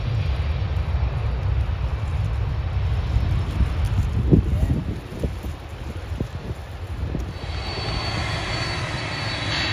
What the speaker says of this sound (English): I mean, that's just a plane.